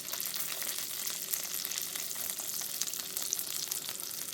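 Duck breast sears in a hot pan, giving a steady, close crackling sizzle that runs unbroken throughout with no voices.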